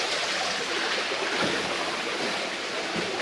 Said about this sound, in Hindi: चट्टानों के अंदर से पानी निकल रहा है।